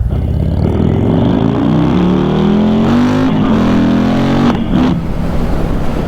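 A Harley-Davidson LiveWire electric motorcycle pulls hard in sport mode, its loud whine rising steadily in pitch as it accelerates close by, with wind and road noise underneath and no talking.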